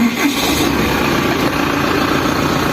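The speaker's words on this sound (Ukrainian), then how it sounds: "Так, зараз заведемо. Почуєте роботу двигателя." An engine with 2,700 operating hours runs steadily close by, a loud, even idling rumble with a faint vibration and no voices.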